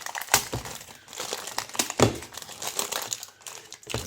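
Wax paper crinkles and crackles as a block of homemade soap is worked out of its container, with irregular sharp rustling bursts close up and no talking.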